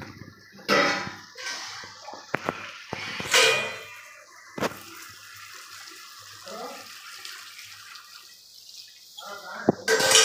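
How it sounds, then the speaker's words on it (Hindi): Water poured into a pan of Manchurian sauce made with vinegar, tomato sauce, soy sauce and chili sauce, heard as a few short splashing bursts and trickles among quiet kitchen clatter, close and moderately loud. "अब हम इसमें ऐड करेंगे पानी।"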